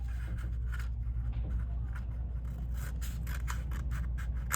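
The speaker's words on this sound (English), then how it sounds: "take our scissors, and cut only into the middle of each side of the rectangle" Quiet, repeated snipping of scissors cutting slits into a paper rectangle for a paper-folding craft, with soft rustling between cuts over a low steady hum.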